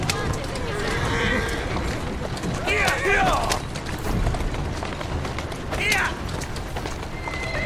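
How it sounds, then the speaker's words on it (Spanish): Horse trotting through city streets in Assassin's Creed Syndicate, steady clip-clop hooves with carriage creaks, someone speaking over the game sound. "Vamos, caballito, vamos."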